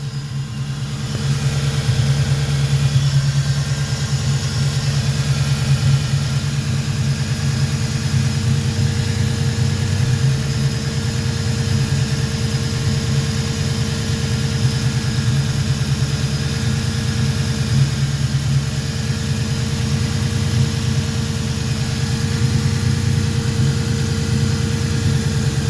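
A car engine idles with a suspected vacuum leak, holding a steady, loud low hum with faint vibration and no change in speed across the whole stretch, with no voices.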